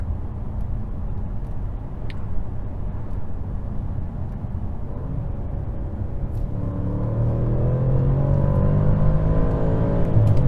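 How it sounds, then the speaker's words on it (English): A 2022 Audi S8 sedan's V8 engine rumbles steadily, then builds into a louder, rising acceleration pull with climbing engine tones after a downshift, heard close and alone with no talking. "end the video with you guys listening to the"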